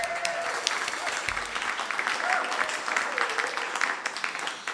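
Studio audience applauds a musician on a live radio broadcast, sparse close claps and cheering that swell and continue, with a brief voice and a low thump partway through.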